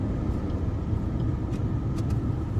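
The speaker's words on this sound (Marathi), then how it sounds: "ट्रॅफिक खूप झालेला आहे" Steady road traffic rumbles on a busy street, a dense low engine drone from cars and heavier vehicles with faint passing swells, continuous and moderately loud with no clear voices.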